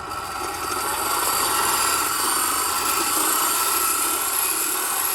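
A toy robot war boat's crank mechanism runs out of water, giving a steady, continuous mechanical whir with a buzzing, siren-like edge that holds at an even loudness throughout.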